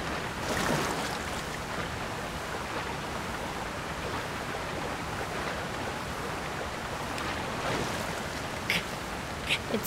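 Steady rushing water from a waterfall in Zelda: Tears of the Kingdom, a continuous broadband roar with no pauses, a couple of faint brief clicks near the end.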